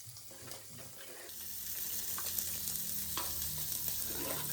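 Fish roe stirred with salt and tamarind water as it cooks in a pan in a village-style kitchen, giving a steady soft sizzle and scraping that grows louder after the first second, with no talk.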